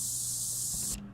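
A bright, hissing synthesized noise swells briefly, then cuts off abruptly, leaving a faint low hum.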